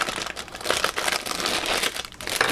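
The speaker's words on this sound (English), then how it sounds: "So, what we're going to do is cut it open because I can't really show you much about it that way." Loud, continuous crinkling and rustling of a plastic bag of model kit parts being sliced open at close range, with irregular crackles and no talking.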